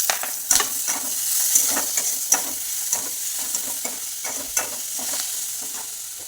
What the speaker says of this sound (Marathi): त्याच्यामध्ये आपण कडीपत्ता टाकून देऊया हळद टाकायची टोमॅटो टाकायचे